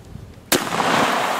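A Browning Citori Special Sporting Clays Edition shotgun fires a single loud, sharp blast outdoors at targets, followed by a long rumbling echo that fills the rest of the moment.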